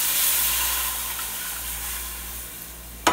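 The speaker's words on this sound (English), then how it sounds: "Now we take our beef stock and we throw it in." Beef stock poured into a hot pan of browned beef for beef and broccoli gives a steady, loud sizzle and steamy hiss that slowly fades, ending in a brief clatter.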